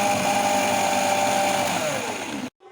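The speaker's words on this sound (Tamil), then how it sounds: "ஃப்ரெண்ட்ஸ் அப்புறம் திரும்பியும் அரைச்சிக்கலாம்." Electric mixer grinder whirring steadily as it blends homemade mayonnaise, a loud continuous motor drone with a falling pitch as it slows, then cutting off abruptly near the end.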